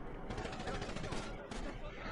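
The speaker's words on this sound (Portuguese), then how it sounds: "Não dá pra saber de onde que vem o tiro, é muita gente." Gunfire in the online mode of the video game GTA V, dense and continuous through the whole stretch, mixed under steady game noise and players talking over it.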